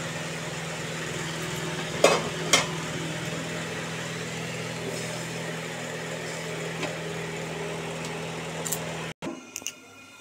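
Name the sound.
spice paste frying and being stirred for Bengali fish curry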